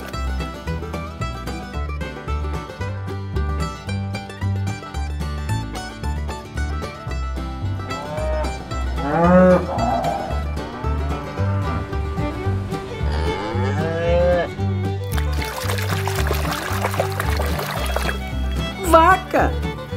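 A cow moos over steady rhythmic music with a strong low beat, the call rising and falling for a couple of seconds amid busy background sound.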